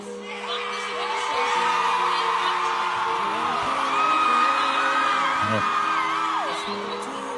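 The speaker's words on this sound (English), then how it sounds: "Crowd goes wild." A large crowd whoops, yells and cheers loudly and steadily, with scattered shouts rising above a dense roar that swells toward the middle and fades slightly at the end.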